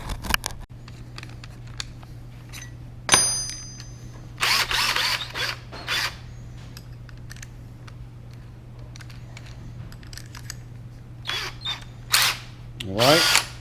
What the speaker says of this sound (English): we're going to go ahead and try to just kind of manually pilot drill this